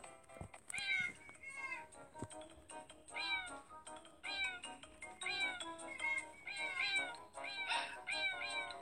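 Cats in a video game meow again and again in quick overlapping calls, some high and strained, near and fairly loud, with a few soft thumps.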